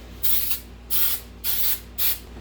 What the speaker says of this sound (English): I'm just going to take some of the non-stick vegetable spray and give that a light spray